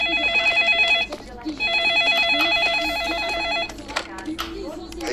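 A telephone rings loudly in bursts of warbling electronic tones, two long ring cycles broken by a short gap, close and clear with background noise and brief speech-like sounds between rings.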